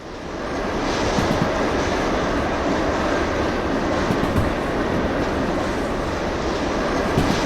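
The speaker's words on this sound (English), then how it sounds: "Two and a half kilotons of train we have here" A heavy freight train of about two and a half kilotons rolls along in the railway simulator Derail Valley, giving a steady, loud, close rumble with a dense broadband roar that holds without a break for the whole stretch.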